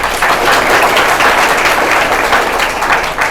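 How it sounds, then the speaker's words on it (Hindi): An audience at a school event in Santokhgarh breaks into loud, sustained applause for a teacher, dense continuous clapping filling the room without talk. "सो मैम के लिए एक जोरदार तालियां"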